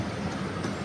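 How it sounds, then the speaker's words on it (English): A tour train rolls through a safari park, giving a steady, low, even rumble of wheels and cars with no speech on top. "If you couldn't tell, we're on a train."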